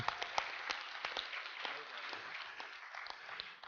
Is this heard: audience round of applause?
yes